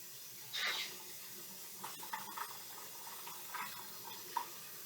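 Tap water runs into a sink as a soft, steady trickle with a few faint splashes and clinks, quiet and close, with no talking.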